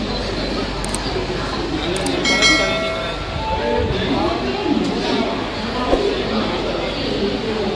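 A passenger train rolls onward past Bhusawal with a low, steady rumble and occasional metallic clinks, while people talk close by over the running noise.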